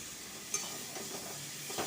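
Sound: stirring and frying onions in a pan

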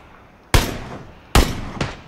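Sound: gunshots in a video game

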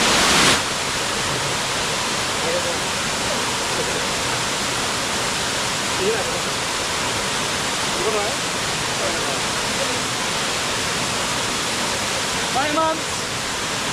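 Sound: Minumuluru waterfall, Paderu

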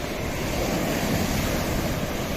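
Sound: sea waves and surf

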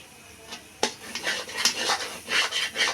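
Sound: stirring and frying egg curry in a pan

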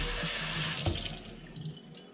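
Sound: rinsing a Revere Ware pan under running tap water

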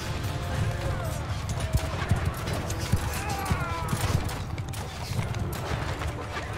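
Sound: horse hooves clip-clop in Mount & Blade 2: Bannerlord video game

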